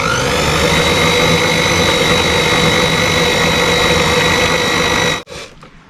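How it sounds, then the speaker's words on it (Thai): A blender on a slow setting whirs loudly and steadily, blending a mixture with added tapioca starch, a dense constant motor hum that cuts off abruptly near the end, leaving a faint low rumble. "แล้วก็ปั่นซ้ำเลยนะครับ"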